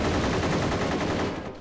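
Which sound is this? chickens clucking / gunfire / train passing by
gunfire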